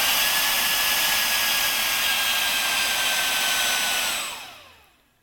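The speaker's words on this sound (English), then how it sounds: "There's a lot of air coming out of these things." Exhaust cooling fans on a GTM blow air in a loud, steady rush with a faint whine, which cuts off and fades away near the end.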